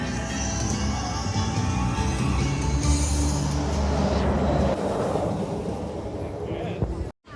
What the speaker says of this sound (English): Just heard the train.